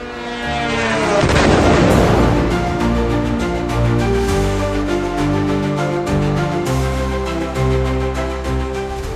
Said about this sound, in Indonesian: Beberapa proyektil tetap berhasil menembus pertahanan. Ledakan terjadi.